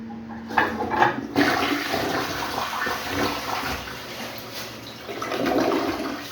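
A bathroom toilet, reinstalled after a sewer-odour problem, flushing with a loud rushing gush of water into the bowl. The steady swirl holds for several seconds and surges again near the end. No one speaks.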